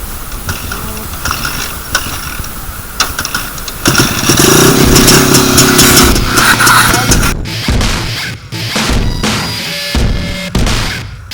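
A Yezdi Jawa motorcycle is kicked and fires up nearby, its engine turning over with a loud, uneven putter that swells, then breaks into choppy bursts and knocks as it settles, with no voices over it.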